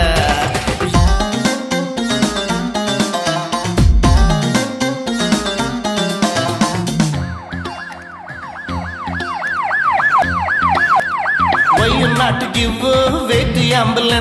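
A wailing ambulance siren rising and falling repeatedly, loud and close, mixed with music in the background.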